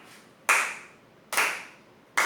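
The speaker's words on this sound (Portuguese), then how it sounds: "A gente vai batendo palma e falando tá." Hands clap during a percussion-led music lesson: three sharp, loud claps spaced evenly, each ringing out briefly into a quiet room.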